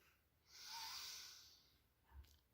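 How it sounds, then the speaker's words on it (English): One long, soft inhalation through the nose from a perfume bottle of rose attar from Kannauj, a breathy hiss that swells and fades, then a faint short exhale. "takes a sniff from the bottle"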